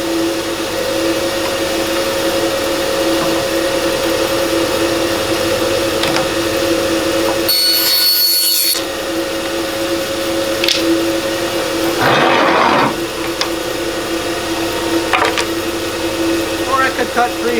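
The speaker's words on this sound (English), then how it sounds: "Turn on the saw with the white button, let it run." Bandsaw motor running with a steady hum and whine throughout, close by, with a brief louder burst partway through and a few faint knocks.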